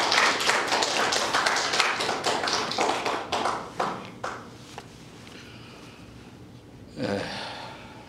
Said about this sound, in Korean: 우리 목사님 나오실 때 한번 우리 박수로 화답하는 시간 갖도록 하겠습니다